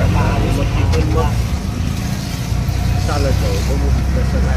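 An auto rickshaw climbs a hill in heavy rain, its engine droning steadily close by under ongoing talk and the rough hiss of the wet surroundings.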